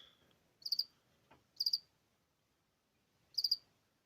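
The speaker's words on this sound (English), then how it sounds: "there's a cricket just moving around just over there" A cricket close by gives three short bursts of rapid high-pitched chirps separated by quiet gaps, with faint rustling in the background.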